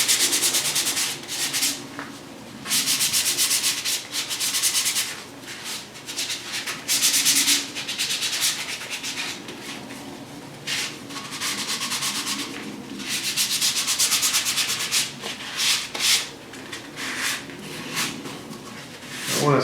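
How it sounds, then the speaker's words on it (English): Hand sanding with 220 grit flexible sandpaper over contoured surfaces of a homemade BMO figure: repeated back-and-forth rasping strokes in uneven bursts, close and fairly loud, with brief pauses between passes. "I like to use this 220 grit flexible sandpaper. I think it helps sand the contours without digging in too much."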